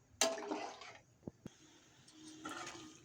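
Pomfret fish pieces drop into a simmering spiced curry gravy, giving two soft splashing sizzles with a couple of small clinks between them, faint and close.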